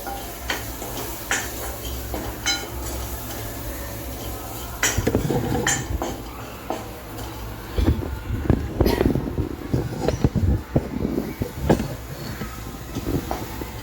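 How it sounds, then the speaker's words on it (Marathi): Spoons stir sambar masala with turmeric, red chili, asafoetida, garlic, tomato and curry leaves in a metal pot, giving repeated scraping clinks that grow busier in the second half over a steady background hum. "सगळं मिक्स करून घ्यायचं."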